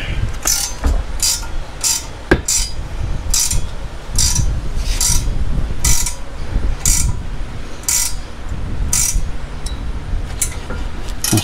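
The mechanism of a Hyperax Iridium hitch-mounted RV kayak rack is tightened with a run of sharp, close ratcheting clicks that come in regular bursts, loud and with no voice.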